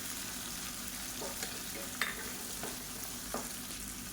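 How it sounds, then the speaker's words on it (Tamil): Drumstick (moringa) pieces sautéing in oil in a pan for a Tamil kuzhambu: a low, steady sizzle with a few light clinks of stirring, quiet and close, with no voices. "முருங்கைக்காய் சேர்த்துட்டு நல்லா வதக்கி விட்டுக்கலாம்"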